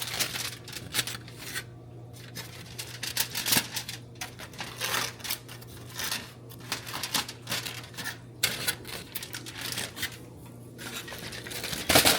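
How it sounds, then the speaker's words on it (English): Aluminum foil being crinkled and pressed over a baked ziti dish, steady close crackling and rustling with brief pauses, no talking. "I'm going to wrap it with some foil"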